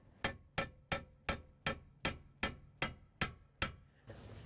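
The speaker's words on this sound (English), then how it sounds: "we'll take our hammer and we'll tap on the control arm" A hammer taps the rim of a 2007-2012 Hyundai Santa Fe lower control arm, ten sharp metallic blows in an even rhythm about a third of a second apart, close and clear, then settling into a quiet shop murmur.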